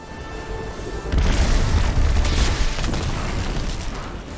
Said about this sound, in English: Not gonna run away from the scatter grenade.